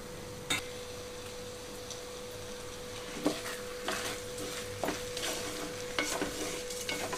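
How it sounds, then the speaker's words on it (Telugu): Raw rice fries for pulagam in a pot over a medium flame, a soft continuous sizzle broken by intermittent spoon scrapes and clinks against the vessel as it is stirred. "ఒక 2 నిమిషాల పాటు ఇట్లానే మీడియం ఫ్లేమ్లో ఉంచి వేయించుకుంటున్నాను"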